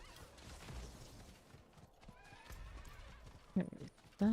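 Horse mount in the Diablo IV video game galloping with clip-clop hooves and letting out whinnies amid game effects, with sharp louder bursts near the end.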